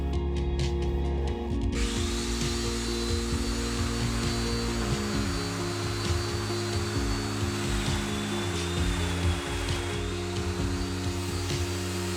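A domino joiner cuts mortises in alder boards for a desktop glue-up, its motor whining steadily and loudly throughout with short plunging cuts changing the tone, close up and with no talking.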